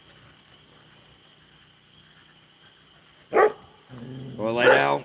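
A puppy outside near an evening bonfire gives a sharp single bark, then a longer, louder bark a moment later, both close by after a quiet stretch.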